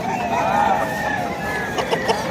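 Chickens cluck and call at a rooster-fighting fair, with a busy crowd murmuring and voices talking throughout the short stretch.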